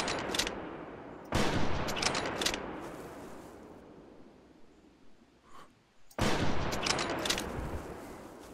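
Gunshots in the hunting video game Prehistoric Hunt: two loud sharp reports separated by several seconds, each followed by a long decaying echo that fades into quiet ambience.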